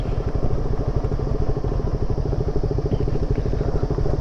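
A KTM RC 200 motorcycle riding off-road in the Bhaderwah valley, its engine a loud, close, steady rapid thumping throb throughout with no voices.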